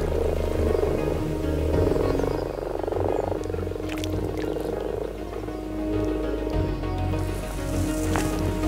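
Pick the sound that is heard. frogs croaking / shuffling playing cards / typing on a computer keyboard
frogs croaking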